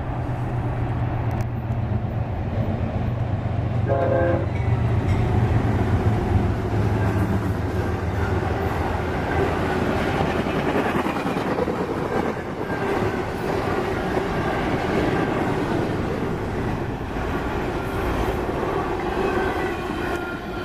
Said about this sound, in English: Next we see train Q158, flying on through at track speed.